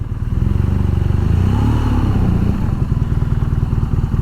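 BMW R nineT Scrambler motorcycle riding over a broken, rough road, its engine thumping in a loud, steady low rumble with a slight rise in revs midway and rattling over the bumps, with no talking.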